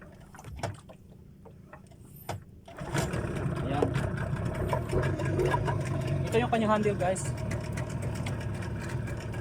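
A Yamaha 15 outboard boat engine starts after a few quiet knocks, then settles into a steady idling rumble that runs on close and constant while someone talks over it.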